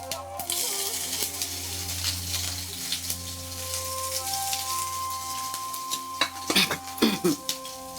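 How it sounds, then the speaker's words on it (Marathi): Spice tempering sizzles steadily in a hot pan in a home kitchen, with a few sharp utensil clinks and scrapes near the end. "काय खमंग फोडणी करता"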